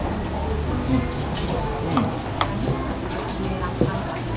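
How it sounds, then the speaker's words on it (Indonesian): Rain pours steadily around an eatery in Aceh Singkil, a dense, constant hiss with scattered drip ticks and faint background murmur. "ini kan suasananya hujan begini"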